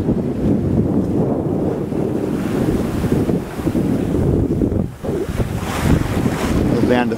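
Strong wind roars across a sailboat at sea in the Salish Sea on a fast run back from Victoria, with heavy buffeting rumble on the microphone and water rushing along the hull continuously.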